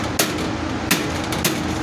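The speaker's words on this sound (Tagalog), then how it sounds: "Martilyo." A hammer strikes three times, sharp, close impacts spaced unevenly over a constant loud background hum.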